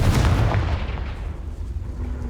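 In the Hogwarts Legacy video game, a Confringo spell blast gives a loud, booming explosive burst that rumbles and decays into a fading roar over the following seconds, with no speech.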